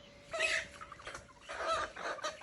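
Young chicks feeding together, chirping and clucking in several short bursts close by, with a steady background hum and no talk.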